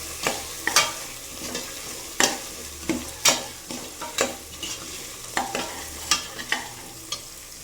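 Tomatoes fry in oil for a mutton curry while a spoon stirs them: a soft, steady sizzle is broken by a dozen or so sharp scraping strokes against the pan at an irregular pace, close up and without talking.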